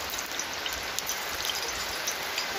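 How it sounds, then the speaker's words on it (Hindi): Heavy rain falls steadily as a dense, continuous wash of close droplets pattering on surfaces, loud and unbroken with no voices. "भाई बारिश बहुत तगड़ी हो गई है"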